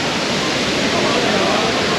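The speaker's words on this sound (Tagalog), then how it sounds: "So, lapit tayo rito sa waterfalls." Rushing waterfall on Taiwan's North Coast in rainy weather, a steady broadband roar of falling water filling the whole clip at close range, with no distinct breaks.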